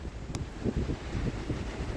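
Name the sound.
strong wind at the beach in Santorini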